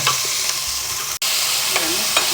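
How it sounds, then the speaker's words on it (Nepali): Steady, loud sizzling of green beans frying in a pan, with occasional stirring scrapes, close up and continuous. "मजाले अब सिमी हालेर पहिला भुट्नु पर्यो।"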